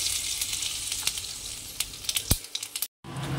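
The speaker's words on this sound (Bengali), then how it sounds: "এবার ফোড়নে দিয়ে দেবো হচ্ছে একটা শুকনো লঙ্কা আর একটুখানি জিরে" Dried red chili and a little cumin sizzle in hot oil for tempering, a loud, close, crackling fry with scattered pops that cuts out briefly near the end before resuming, with no talking.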